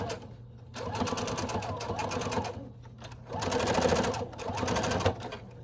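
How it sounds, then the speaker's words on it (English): A sewing machine stitches down a fabric piece of a face mask in two bursts, a close, loud, rapid mechanical chatter with a short pause between runs for backing up over a bump. "make sure you sew this piece down so it's not flopping around"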